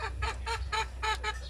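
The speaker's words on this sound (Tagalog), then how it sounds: "Ang manok eh nagsige panawag." A chicken calls in a quick series of about five loud, nasal honking squawks spaced evenly over a second and a half, close by with a low background hum.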